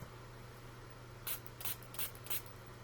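Four short hissing bursts from a spray bottle spraying water onto watercolor paint in steady succession, close by, after a quiet stretch with a faint background hum.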